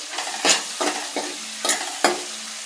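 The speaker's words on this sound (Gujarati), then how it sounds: "બધું મિક્સ કરી લેશું મસાલો." Spice mix being stirred into curry leaves sabji in a hot pan, with a utensil scraping through the sizzling vegetables in four or five distinct strokes over a steady fry.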